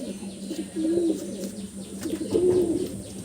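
Pigeons from Andhra Pradesh coo nearby in a loft in low, rolling calls, two clear phrases over faint chirps and rustling, no talking.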